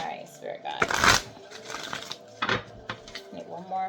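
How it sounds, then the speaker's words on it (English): Tarot cards being shuffled by hand, with a dense riffling burst near the start and a second shorter flurry later, close and moderately loud, mixed with light tapping and handling noise. "Need one more shuffle."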